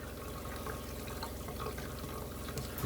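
Water flushing through the plumbing of a Winnebago View RV, a steady, faint rushing flow with a soft trickling hiss that holds even and continuous before a slight swell at the end.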